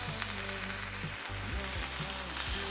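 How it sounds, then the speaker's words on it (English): Steady, loud sizzling of Spanish mackerel frying in a hot pan, a continuous crackling hiss with no one talking. "listen to that sizzle."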